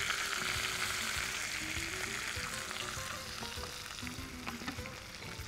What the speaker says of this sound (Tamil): எண்ணெய் சூடாயிடுச்சு. இதில் சோம்பு, கருவேப்பிலை, 1 கை வெங்காயம்,